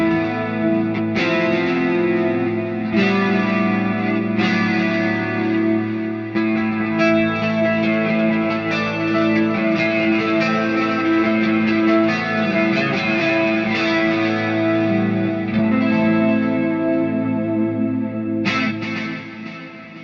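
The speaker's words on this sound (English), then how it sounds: "I wanted to add in that chorusy sound into the clean sound." A clean electric guitar played through a Fractal AM4 with a chorus effect rings out in shimmering chords and picked notes, full and steady for the whole stretch, with no voices.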